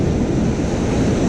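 Ocean surf rolls in on a cold beach as a steady, loud roar of breaking waves, with wind buffeting the microphone and no voices.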